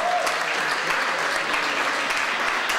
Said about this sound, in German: klatschen dürfen Sie zunächst.